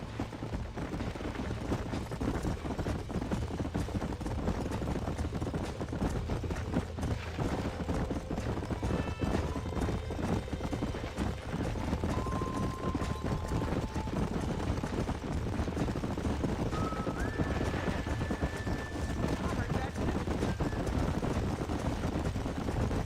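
Video game horses (Red Dead Redemption) clip-clop steadily and continuously at pace, with a couple of brief high whinnies rising above the rumble.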